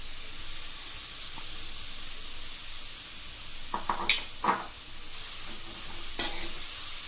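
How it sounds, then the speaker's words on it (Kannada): Grated carrots for carrot halwa sizzle steadily in a pan, with a few close scraping stirs of a spoon against the pan breaking through the soft, continuous frying hiss. "ಈಗ ಈ ಕ್ಯಾರೆಟನ್ನು ನಾವು ಫ್ರೈ ಮಾಡ್ಕೊಳ್ಳೋಣ."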